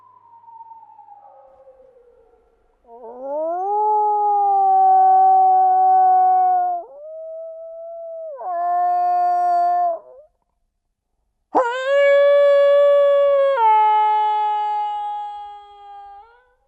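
Long, loud, wavering howls rise and hold, one after another with short pauses, the last one starting sharply and sliding down at the end.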